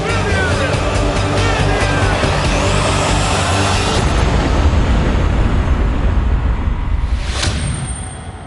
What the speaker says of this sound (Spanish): Es la explosión no nuclear más grande desde la Segunda Guerra Mundial.